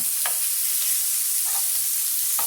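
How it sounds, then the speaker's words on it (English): Steady, close sizzling of vegetables and meat stir-frying in a hot pan for spaghetti Napolitan, with a few soft scraping stirs breaking through the constant hiss. "When stir frying vegetables and meat"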